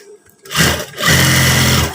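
A sewing machine stitching PDL-style trousers with cargo pockets, starting up after a brief pause and then running loud and steady in a continuous fast whirring buzz.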